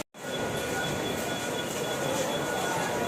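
Steady rumbling and rattling inside a moving, crowded local train carriage, a continuous loud wash of wheel and cabin noise.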